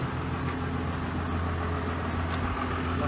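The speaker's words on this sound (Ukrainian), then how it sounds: "Трактор 150-сильний." A 150-horsepower tractor engine idles in a low, steady rumble, fairly quiet and continuous, with no talk over it.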